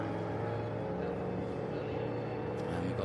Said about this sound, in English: we've got a couple of Le Mans cars out there at the moment